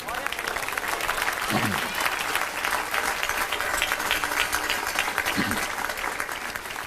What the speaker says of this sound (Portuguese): Aplausos para o Senhor.